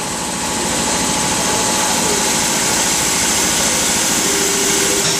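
A driveshaft balancing machine spins a high-performance driveshaft, giving a loud, steady whirring drone with a tonal whine that climbs slightly as it comes up to speed, with no talking.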